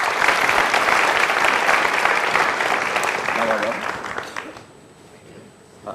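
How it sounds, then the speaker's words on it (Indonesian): A studio audience claps in a dense, lively burst that holds strong for several seconds, then thins and fades out toward the end. "Boleh tepuk tangannya?"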